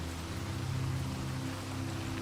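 Rain pours steadily through a stormy night at a manor, a dense, even hiss of falling drops, with a low rumbling drone underneath.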